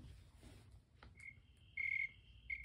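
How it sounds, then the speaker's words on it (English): A few thin, high-pitched chirps, like crickets, ring out quietly against a faint low background hum, with the last two chirps louder. "Count the number of cricket chirps you hear outside in 14 seconds"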